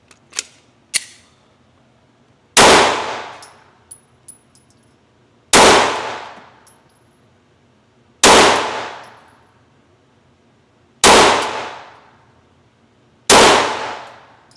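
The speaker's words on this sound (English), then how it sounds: "We'll do another 5 shots." Glock pistol shots fired at a 7-yard target, five sharp loud reports spaced about three seconds apart, each ringing off with a decaying tail, plus a few small metallic clinks between them.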